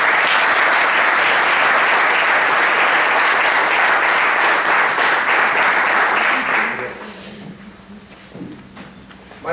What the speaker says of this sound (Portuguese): Os nossos aplausos para o Samuel Remédios.